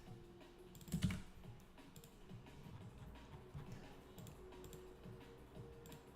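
Quiet, close clicking of keys being typed on a computer keyboard in irregular bursts, with one louder thump near the start over a soft room hum.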